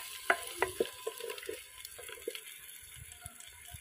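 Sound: onions browning in a frying pot

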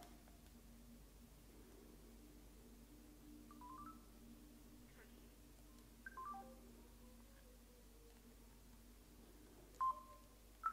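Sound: phone dialing tones when starting a call

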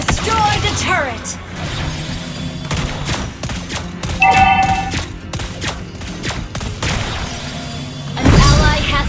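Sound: gunfire from the video game Mobile Legends, Lesley shooting

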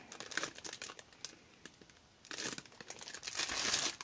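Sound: crinkling candy bag being handled

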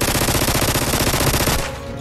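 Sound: gunfire in an animated parody video

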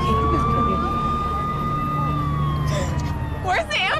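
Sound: ambulance siren approaching

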